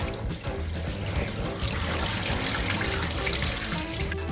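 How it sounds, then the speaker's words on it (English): Cold tap water runs steadily over tomatoes in a kitchen sink, a continuous close splashing stream with no voices. "First, rinse the tomatoes under cold water."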